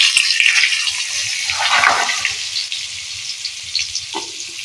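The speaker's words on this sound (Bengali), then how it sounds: "আলুটা প্রথমে আমি একটু কষে নেব।" Potatoes fry in a little oil in a pan used earlier for fish, starting with a loud, bright hiss that settles into a quieter sizzle, with a few faint stirring knocks and no talking.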